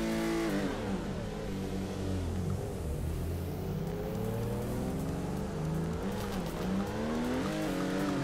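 Supra drift car in the Torque Drift video game, its engine revving hard and rising through gears with tire squeal, loud and continuous throughout.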